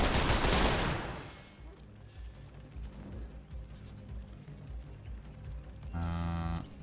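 Gunfire from a weapon in The Lamplighters League video game, a loud burst up close at the start followed by a rumbling game soundscape and a droning tonal effect near the end.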